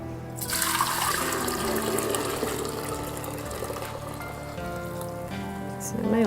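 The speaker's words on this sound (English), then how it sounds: "And then I'm just going to pour the tea in the cookie jar." Brewed kombucha tea pours steadily into a glass cookie jar, a continuous splashing liquid rush lasting several seconds at close range with a small clatter at the end.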